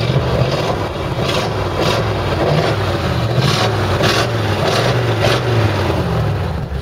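A 1946 Ford half-ton stepside pickup with its original flathead V8 idles steadily close by, a continuous low rumble with faint rhythmic pulsing and no talk over it.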